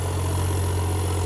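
A New Holland 3630 tractor idles at a village tractor pulling tournament in Pind Palheri, giving a steady, loud low rumble with an even, unbroken drone and no voices.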